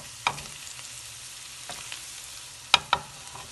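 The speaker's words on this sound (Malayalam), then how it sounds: "മസാല എല്ലാം ചിക്കനിൽ പിടിക്കാൻ തിരിച്ചും മറിച്ചും ഇട്ട് ഒന്നുകൂടെ വേവിച്ചെടുത്താൽ" Fried chicken being tossed with masala in a pan: a low, steady sizzle broken by a few sharp clinks and scrapes of a spoon turning the pieces.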